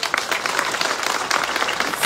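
Audience applause at a street inauguration event in Soledad, dense steady clapping from a crowd filling the whole stretch at even loudness.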